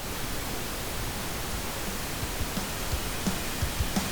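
Steady broadband pink noise hissing evenly throughout, with faint low hard rock drum thumps poking through near the end.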